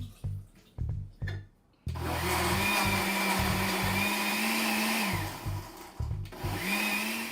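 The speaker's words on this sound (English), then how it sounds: "think this is going to use a blender." A blender whirs loudly and continuously for several seconds, with brief bursts of motor noise before and after the main run.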